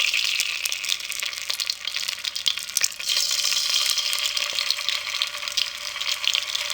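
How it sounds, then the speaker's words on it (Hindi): Pieces of gram flour (besan) dough frying in hot cooking oil over a low flame, a steady close crackling sizzle with bubbling and occasional stirring throughout, no voices. "कुकिंग ऑयल हमारा बहुत अच्छे तरीके से गर्म हो चुका है। अब इसको हम लो फ्लेम पे फ्राई करेंगे।"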